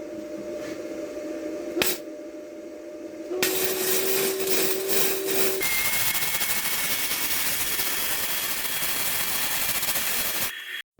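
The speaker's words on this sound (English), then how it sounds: "be safe, wear your safety glasses and gloves, and let's weld" Welding with a Hobart welder, a continuous harsh crackling buzz near and loud for several seconds, its tone shifting midway, then stopping abruptly.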